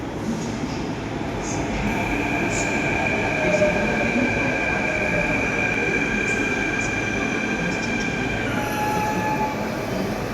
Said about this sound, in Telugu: మా ట్రైన్ కూడా వచ్చింది ఫ్రెండ్.